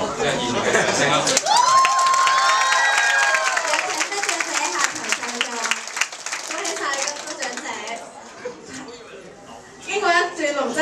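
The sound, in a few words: audience applause at a graduation dinner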